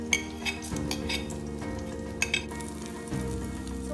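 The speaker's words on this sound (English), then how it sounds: "So once your dry spices start sputtering" Curry leaves, cardamom and dry spices sputtering in hot oil for a beer pulao, a close, lively sizzle dotted with sharp pops and crackles and a couple of metal clinks from the pan, with no speech.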